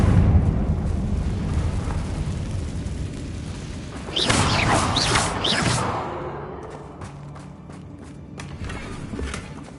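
In Hogwarts Legacy, a Confringo blasting spell goes off as a loud booming burst with crackling debris, then fades into rumble and scattered clattering impacts, heard without speech.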